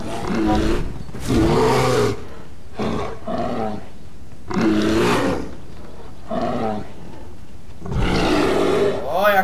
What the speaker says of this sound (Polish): Drapieżca, kurde, warczy